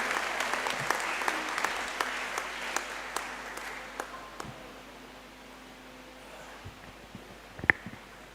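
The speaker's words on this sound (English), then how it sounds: "A round of applause for Professor Daniel Ofori." Faint, thin applause from an audience at a university department's 60th anniversary launch, a few separate claps trailing off over several seconds, with one sharper knock near the end.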